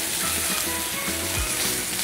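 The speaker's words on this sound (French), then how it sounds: "petit filet de porc et je le passe à l'intérieur de la poêle pour le saisir" Small pieces of pork fillet sear in hot oil in a frying pan, a steady close sizzle and crackle that continues without a break, with no talk.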